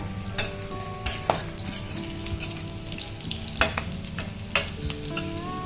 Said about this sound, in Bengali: দেখেন বন্ধুরা রোলগুলো কত সুন্দর ভাজা হয়ে যাচ্ছে।